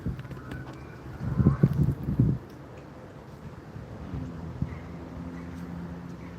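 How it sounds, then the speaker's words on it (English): Strong wind buffets the microphone beside a lake during fly-fishing, a loud gusty rumble around the middle that settles into a steady, lower roar, with no talk. "A lot of wind."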